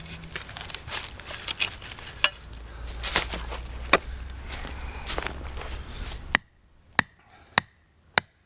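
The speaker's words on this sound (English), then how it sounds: "Sometimes I'll hammer it down where my spring levers are going." Dull thuds scuffle over soft ground for several seconds, then four sharp separate hammer strikes ring out with pauses between them, as a coyote trap is hammered down into dirt.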